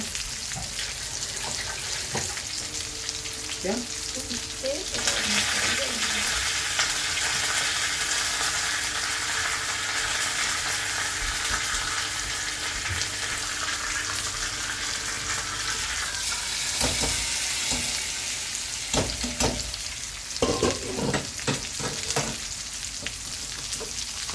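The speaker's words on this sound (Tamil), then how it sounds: "இங்கே ஃபிஷ் ஃப்ரையும் ரெடி ஆகிட்டுருக்குது அப்புறம் குழம்புக்கு தாளிச்சிட்ருக்குறேன்" Fish frying in hot oil beside spices being tempered for a curry, a steady close sizzle with stirring and clinks of utensils throughout, and a busier spattering burst near the end; no talking.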